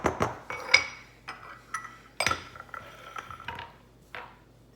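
Naan dough ingredients and plain yogurt being mixed in a bowl, heard as irregular clinks and scrapes of a utensil against the bowl with short pauses between strokes, fairly close and fairly quiet.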